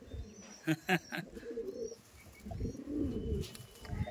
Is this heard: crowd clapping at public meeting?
no